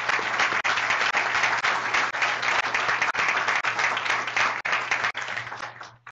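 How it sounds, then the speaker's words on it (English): Applause breaks out for a speaker at a cybersecurity symposium, a sustained crowd clapping at moderate level with a faint low hum underneath, fading out in the final moments. "let's give him a big round of applause"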